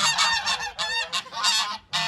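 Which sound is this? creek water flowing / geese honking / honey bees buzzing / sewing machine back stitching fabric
geese honking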